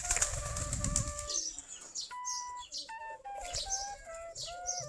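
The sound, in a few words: deshi giribaj pigeons flapping and calling while feeding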